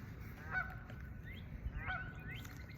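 Two raspy goose honks come close together, one just past the half-second mark and another near two seconds, each loud and close over a constant low background hum, with no one speaking.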